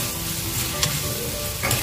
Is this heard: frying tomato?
yes